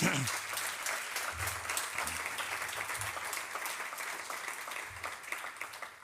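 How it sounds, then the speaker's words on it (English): Audience applause at an academic panel on higher education, steady clapping from a room of people heard at a distance, with low voices and bumps beneath it. "Give her a round of applause."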